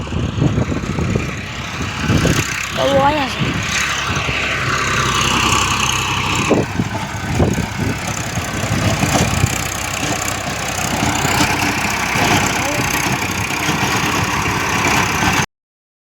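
A tractor engine runs steadily close by, its low rumbling drone continuing for about fifteen seconds with slight shifts in pitch, under a brief stretch of speech.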